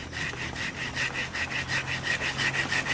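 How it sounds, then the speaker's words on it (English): A hand saw cuts through a cacao tree branch in quick, even back-and-forth strokes, each rasping pass of the blade on wood loud and close with no talk. "We have the pruning shears, and this is a hand saw here"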